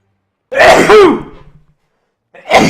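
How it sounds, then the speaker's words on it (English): A single big human sneeze bursts out loud and close, with a sharp onset and a breathy tail fading away, followed by a brief silence and another vocal burst. "big sneeze."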